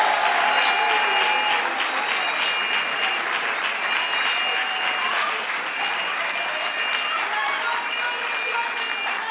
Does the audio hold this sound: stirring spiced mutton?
no